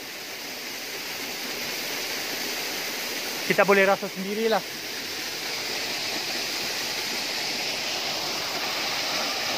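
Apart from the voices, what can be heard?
waterfall on the old Gombak road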